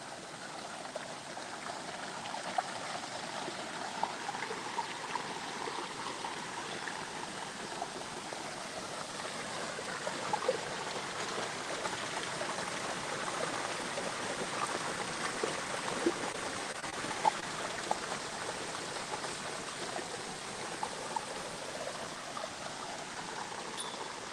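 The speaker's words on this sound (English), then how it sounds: "The water here that comes down these mountains" Water flows continuously in a stream running down mountainsides, a steady, fairly loud rushing and babbling with no pauses, heard alone outdoors.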